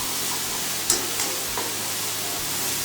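Small shallots sizzle steadily in a hot pan, a broad hissing fry with a few soft scraping clicks as they are stirred.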